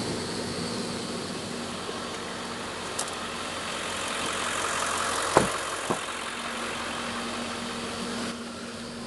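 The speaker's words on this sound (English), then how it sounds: "You can literally see the ozone generator working." An ozone generator running inside a vehicle cabin, a steady droning hum with a constant whine, faint clicks and a couple of brief knocks over it, no talk.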